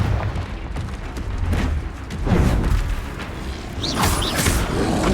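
Confringo fire blast spells in the Hogwarts Legacy video game, cast in a fight, bursting as heavy booming impacts with crackling debris and bright whooshes, several blasts in quick succession over a rumbling battle background.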